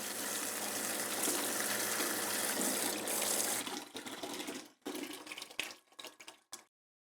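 Steady rushing of hot water from a faucet fed by a Girard tankless water heater for several seconds, then sputtering and breaking into uneven bursts before cutting off.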